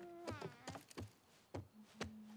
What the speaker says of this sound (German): da höre ich Dina summen